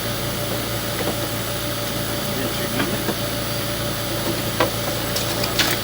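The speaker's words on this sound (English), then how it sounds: "Apologize for the noise. We're right next to the AC unit in the backyard." A steady mechanical hum and whir from an outdoor air conditioning unit in a backyard runs throughout, close by, with a few faint clicks and taps on top and no clear talking.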